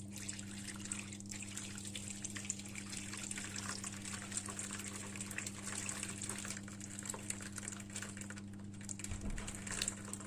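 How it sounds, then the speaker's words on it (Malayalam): A steady liquid trickle and pour of tender coconut pudding mix into a tray runs through the whole stretch over a constant low hum, with no talking. "ഇതിലേക്ക് നമ്മൾ റെഡിയാക്കി വെച്ചിട്ടുള്ള ടെൻഡർ കോക്കനട്ട് പുഡിങ്ങിൻ്റെ മിക്സ് ഒഴിക്കാം"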